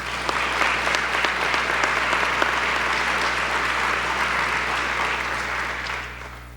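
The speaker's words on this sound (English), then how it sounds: "let's give them a round of applause" Sustained applause from a crowd at a police chief swearing-in and promotions ceremony, steady dense clapping that fills the room for several seconds before gradually fading at the end.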